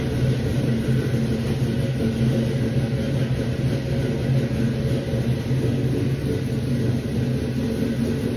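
A 1972 Chevrolet C10 pickup engine idles with no throttle input, a steady, even low rumble that holds at constant loudness throughout without revving.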